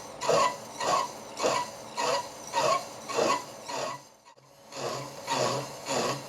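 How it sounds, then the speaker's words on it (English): A saw blade cuts steel in a slow, rhythmic back-and-forth rasp, with about eight regular strokes, a short pause, then three more strokes, close and moderately loud. "it's a bit nerve-wracking cutting steel sometimes"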